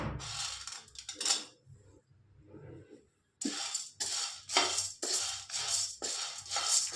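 Chana dal is stirred and dry-roasted in a kadai, giving rapid bursts of dry scraping and rattling in uneven strokes, close and fairly quiet, with a brief pause partway through.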